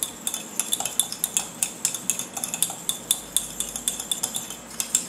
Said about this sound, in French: je vais ajouter la première poudre, qui est la lantoïne. Hop. Voilà, et vous mélangez.